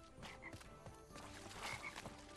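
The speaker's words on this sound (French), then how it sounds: "Un crapaud." A toad croaking in the Crash Bandicoot N. Sane Trilogy video game, a quiet repeated croaking over soft game ambience, with no voices.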